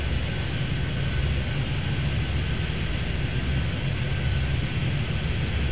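An airliner in the Airport Madness 3D game at SFO, holding a steady, broadband engine roar with a low rumble throughout, continuous and fairly close, with no voices over it.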